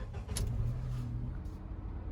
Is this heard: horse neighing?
no